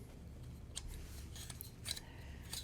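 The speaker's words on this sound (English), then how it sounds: "Because the core was really rattly on the first one I got." The loose internal core of a SabNeo V8 Lava Blade lightsaber rattles as it is taken apart. Faint, sparse metallic clicks and ticks scatter over quiet background noise.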